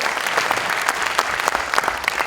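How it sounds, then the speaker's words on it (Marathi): Dense, steady audience applause at a Marathi motivational seminar, a crowd clapping together at close range and fairly loud for the full stretch, with sharp individual claps standing out from the wash. "जोरदार टाळ्या आपण वाजवूया"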